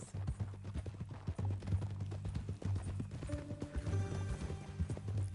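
Horse hooves clip-clopping in Red Dead Redemption 2, a steady rhythmic walking gait close up, with game music and a brief whinny in the background.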